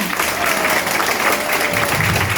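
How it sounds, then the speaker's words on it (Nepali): An audience at a motivational business training session breaks into loud, continuous applause, a dense close clapping that fills the whole moment. "म दाजुभाइको रियाक्सन देख्न चाहन्छु तालीबाट।"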